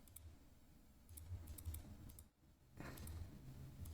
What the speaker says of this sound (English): am really struggling here with the mouse clicks